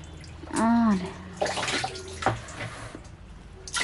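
Water is poured into a jar of rice in a rural Nepali kitchen while home raksi is made, with a short splashing gush near the start and lighter trickles afterward, under people talking.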